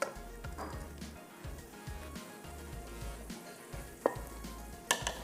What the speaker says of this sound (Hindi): ये गया शीरा